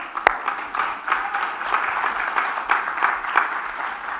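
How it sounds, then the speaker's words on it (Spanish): A church congregation claps together, one sharp clap opening a few seconds of steady, fairly loud group clapping with a slightly uneven rhythm. "Dele palmas al Señor."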